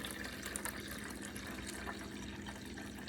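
Water pours steadily from a tap into a measuring cup to make two cups for a homemade cleaning-wipe solution, a soft continuous splashing trickle with no talking.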